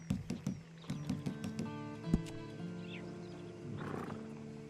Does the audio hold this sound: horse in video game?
yes